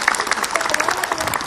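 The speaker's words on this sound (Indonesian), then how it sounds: "Wih tepuk tangan dong dari Bekasi nih." A studio audience at an Islamic religious talk show breaks into applause, a brief continuous wash of clapping heard close and fairly loud throughout.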